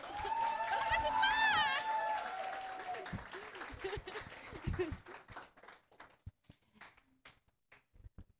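An audience at a monthly recognition event claps and cheers as a speaker introduces herself, a swell of applause mixed with voices that thins into scattered claps.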